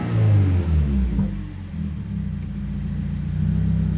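Subaru WRX engine after an ECU reset, a loud close idle rumble that rises briefly then sags as the RPM drops, settling into an uneven low hum.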